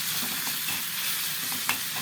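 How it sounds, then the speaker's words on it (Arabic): Taqliya of coriander pulp, garlic, butter and oil sizzles in a pan for a taro dish, a steady close fry hiss with a brief stir sound partway through. "هو ده بقى التقليه اللي بيتعمل فيها القلقاس"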